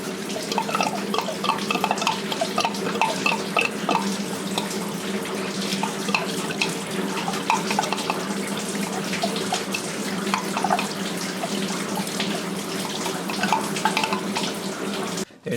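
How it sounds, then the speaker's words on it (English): Fluid drains steadily from a disconnected hose on a Honda Accord engine during VTEC solenoid gasket work, a continuous close trickle and splash running for the whole stretch, with no talking. "Just gonna let it drain."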